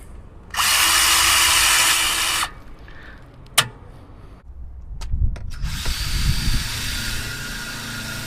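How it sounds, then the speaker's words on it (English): A power drill whines loudly for about two seconds, then clicks and knocks follow as it bites and grinds through material with a rougher, lower churning, drilling into a Harley-Davidson Street Bob motorcycle. "was pretty easy to drill that hole"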